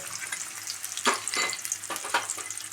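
Chopped onion, ginger and green chili fry in coconut oil for a chicken curry, with a steady crackling sizzle and a few louder bursts as the pan is stirred, close and without speech.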